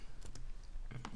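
A computer keyboard gets a few quick key presses, close and crisp, while someone works in Cinema 4D; two clicks come early and two more near the end, with faint background hum between.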